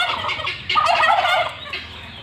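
Local chickens in a village yard in Sorbhog, Barpeta, Assam, feeding on sandalwood leaves, give a close, loud burst of rapid clucking calls that swells midway and then trails off.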